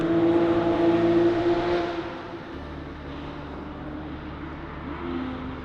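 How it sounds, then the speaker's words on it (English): A Formula Ford race car fitted with Ford's 1 litre EcoBoost engine, a loud droning engine note that holds steady then eases back to a quieter, lower hum. "we've taken that engine and put it into a Formula Ford"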